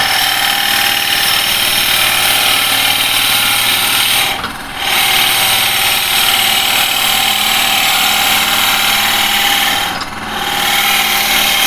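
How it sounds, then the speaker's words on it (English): A 38mm bit drills into the bottom of a wooden turning, a loud, steady whine-like hum up close, briefly dipping twice as the pressure eases, with no talk. "I'm just drilling into the bottom."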